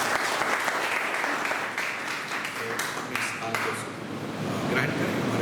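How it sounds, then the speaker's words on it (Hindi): Congregation applauding at a Sunday church service, a dense steady wash of clapping that carries through the whole stretch at an even level, with some faint voices mixed in. "तालियों के साथ"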